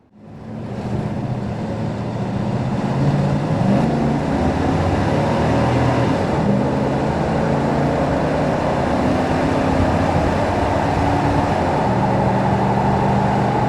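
A one-owner 1997 Chevrolet K1500 truck with a 5.7 V8 and overdrive transmission cruises along, its engine a steady low drone under road noise, with gentle pitch changes as it pulls and shifts, and nobody talking.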